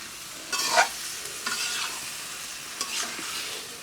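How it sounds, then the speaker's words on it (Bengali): A spatula pushes bottle gourd through frying spiced masala for a boal fish curry, giving a few loud scraping strokes over a quiet sizzle with short pauses between them; nobody speaks. "এখন আমি চুনির সাহায্যে খুব নেড়ে চেড়ে মশলা কষার সঙ্গে জাত লাউ মিক্সড করে নিচ্ছি"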